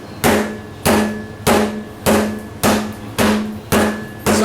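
A hammer strikes the back of a chef's knife to crack a lobster for Lobster Thermidor, seven sharp, evenly spaced metallic blows, close and loud with brief ringing decays and no talking.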